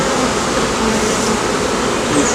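A honey bee swarm buzzing loudly and continuously during a hive rescue, a dense, close, droning hum with no voices.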